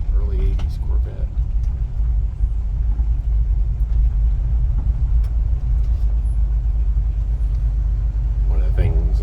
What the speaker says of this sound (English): Looks like someone's visiting us with a beautiful early 80s Corvette.